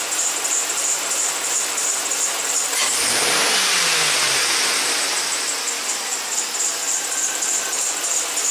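A V8 engine is taken to wide open throttle, its loud rev sweeping up and falling back around the middle of the clip, with steady high-pitched workshop hiss throughout and no talk.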